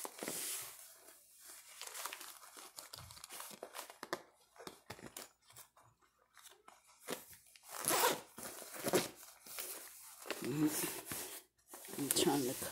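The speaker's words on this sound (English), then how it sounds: "Then use your second zipper." A plastic zipper bag sealed with its second zip closure while weighting a balloon sandbag, giving short crinkling, zipping rasps in separate bursts, fairly close and moderately loud, with quiet pauses between.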